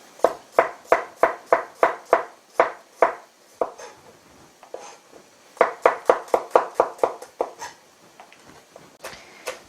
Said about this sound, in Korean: 대파를 잘라주실 때는 이 칠리에서 향이 좀 나라고 넣고 이렇게 편 썰어서